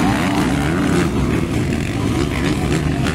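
Motocross motorcycles racing in an intermediate open class at a dirt track, a dense, buzzing roar of several engines revving together, loud and continuous.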